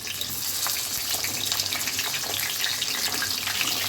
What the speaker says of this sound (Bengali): তো বেগুনটা প্রথমে একটু ভাইজা নেব।